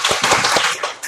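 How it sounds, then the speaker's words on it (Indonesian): A classroom of students gives a short burst of applause for a classmate after his music performance. The clapping is dense and close, with a few sharper slaps standing out over about a second. "Kita kasih aplaus dulu."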